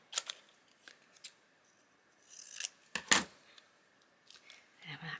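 Scissors snip through paper pieces being cut out for a pocket mini journal, a scattered series of short crisp cuts and rustles, with a louder snap near the middle and faint handling noise.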